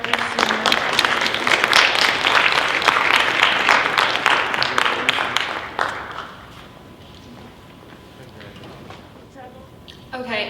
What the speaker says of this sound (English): Let's give a round of applause to all of our seniors.